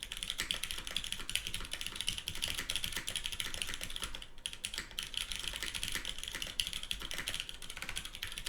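Rapid, steady typing on a freshly built Matrix 8XV 3.3 mechanical keyboard, its lubed switches not yet broken in and slightly rattly; dense close-up clacking runs continuously with no speech.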